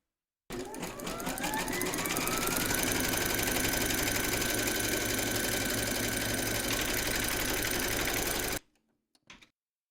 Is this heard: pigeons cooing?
no